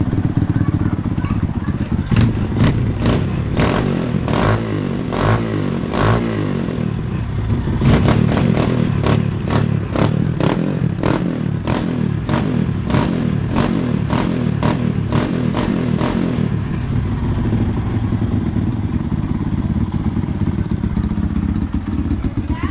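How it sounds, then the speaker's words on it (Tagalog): Yamaha YTX 125 scrambler fitted with a quick throttle, revved repeatedly in sharp bursts by the rider, loud and close, with an idling engine between the blips. "So unting piga mo palang galit na agad yung makina."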